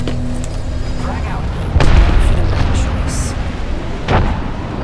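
A frag grenade goes off in a shooter video game, a loud booming blast followed by a second smaller thump, amid constant battle noise and voices talking.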